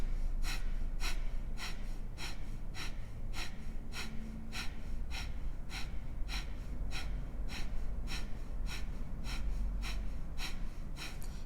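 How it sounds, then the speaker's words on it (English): Yoga fire breath, a fast steady series of forceful nasal exhales with passive inhales between, about two per second, close and continuous over a low background hum. "go ahead and start in with your fire breath. So strong exhale, passive inhale."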